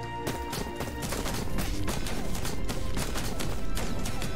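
Rapid bursts of gunfire in the video game Moods, a dense run of sharp repeated shots and impacts that grows slightly louder toward the end, with no voices.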